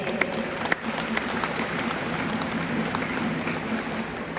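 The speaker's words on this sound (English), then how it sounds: "Could you please have a round of applause for them?" Audience applauding the juniors at a school farewell at DPS Megacity, a steady wash of many hands clapping throughout at moderate, even volume with a faint low hum beneath.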